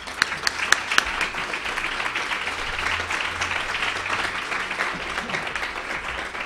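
Audience applause welcoming photographer Hélène Binet at an evening event, a steady wash of clapping from a crowd that holds at even loudness throughout, with a few sharper individual claps near the start.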